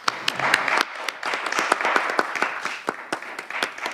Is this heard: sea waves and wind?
no